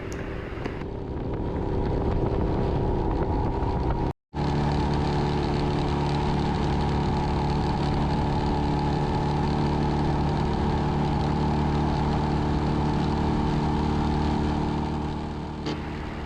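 A Royal Enfield Himalayan motorcycle ridden fast on a road tour, giving a loud, steady engine drone with a sustained hum throughout. A brief dropout occurs early on, and no one speaks.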